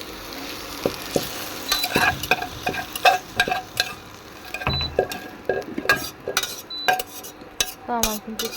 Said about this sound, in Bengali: এখানে আমার রান্না চলতেছে, সিমগুলা ভালো করে ভেজে নিব।